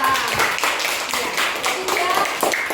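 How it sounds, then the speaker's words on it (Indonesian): A classroom audience claps hands during a teaching performance assessment in Ambon. Scattered, uneven claps come through with voices talking over them. "Oke, tepuk tangan dulu."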